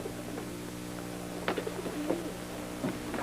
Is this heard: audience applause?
no